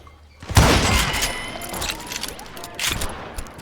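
Gunfire in the Western shooter Call of Juarez Gunslinger: a loud close blast opens a dense run of shots and clattering impacts, with a second burst near the end.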